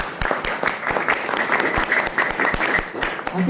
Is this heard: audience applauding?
yes